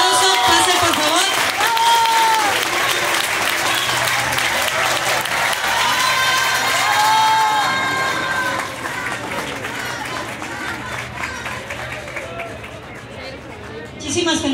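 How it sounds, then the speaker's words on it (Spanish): Crowd applause for the second-place winner, Centro Cultural La Matihuana, at a prize ceremony for a ramas contest in Xalapa, with loud, sustained clapping, chatter and voices over it, thinning toward the end. "Un fuerte aplauso, pase por favor."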